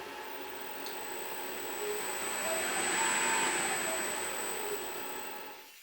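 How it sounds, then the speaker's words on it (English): A homemade pottery wheel's motor and cooling fan start up, with speed set by a potentiometer foot pedal. A faint, steady whir rises gradually to a hum, peaks midway and then eases back down. "it starts the fan and our potentiometer, our foot pedal, will control the speed of the motor."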